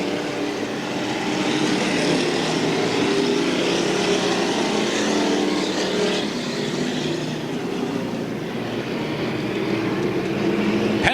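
NASCAR Winston late model race cars run at speed around Raven Raceway in 1987, a dense, steady, somewhat distant engine drone that swells slightly as the pack passes.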